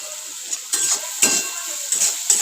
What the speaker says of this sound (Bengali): তো গাজরটা একটু ভাজা ভাজা করে নিই